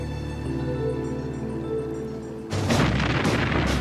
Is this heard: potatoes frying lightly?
no